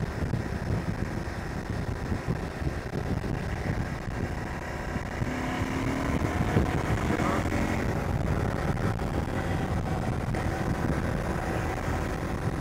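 Ducati DesertX or KTM 890 Adventure R adventure motorcycle engine revving and accelerating in fifth gear on the road, a steady broad engine drone with wind buffeting, louder in the second half.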